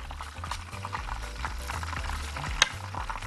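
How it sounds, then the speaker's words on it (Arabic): Rice for a risotto-style dish is stirred in a pot, with repeated scraping strokes of a spoon over a gentle sizzle and a sharp knock near the end. "تعالوا نقلب الرز"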